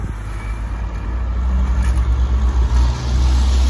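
Small sidewalk plow machine engine chugging loudly and close, its pulsing mid-pitched drone building and labouring as it works against the curb.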